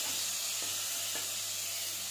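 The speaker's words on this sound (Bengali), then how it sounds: "কড়াই বসিয়েছি, গ্যাসের উপরে তেল গরম করে নিয়েছি। প্রথমে আমি মাংসের টুকরোগুলো ভেজে নেব।" Pieces of meat frying in hot oil in a wok on a gas stove, a steady, even sizzle and hiss that holds throughout, with a couple of faint clicks partway through.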